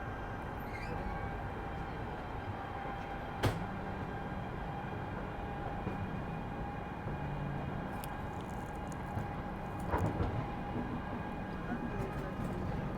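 Indian Railways train traction motors running, with an ALCO locomotive standing nearby, make a steady broadband rumble with a faint tonal hum throughout, broken by a couple of sharp clanks.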